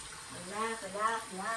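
A kitchen tap runs while a child cooks dinner, giving a gentle, steady splashing of water under a young voice that talks over it.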